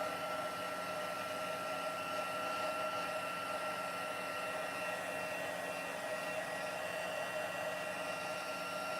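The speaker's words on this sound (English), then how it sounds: "So I'm going to hit it with the heat tool just to make sure" An embossing heat tool blows hot air in a steady, continuous whirring hum, close and unbroken throughout.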